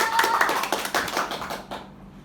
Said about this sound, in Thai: ขอเสียงปรบมือกับทัพกลาของเราด้วยค่ะ